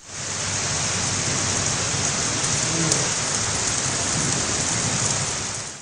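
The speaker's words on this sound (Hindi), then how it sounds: "चक्करगढ़ और गिरदनवा में भी गरज चमक के साथ बारिश हुई।" Steady, loud downpour from a summer morning thunderstorm, with thunder rumbling low beneath the dense hiss of rain and no voices.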